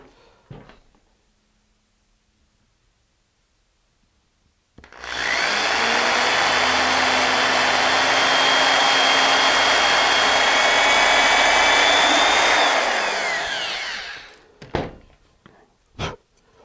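After a stretch of quiet, an electric drill whirs loudly and steadily for several seconds while drilling a tap hole in a fiberglass rocket's electronics bay, then winds down, followed by a couple of sharp clicks.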